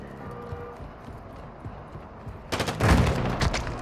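Gunfire in a video game rings out near the end as a loud burst of rapid shots after a quieter stretch of hoofbeat-like game sounds, with no voices over it.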